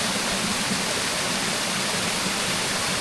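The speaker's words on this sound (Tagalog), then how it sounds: "May falls. Natural." Steady rushing roar of the natural Hidden Falls along Marilaque, a continuous broadband wash of falling water heard up close with no breaks.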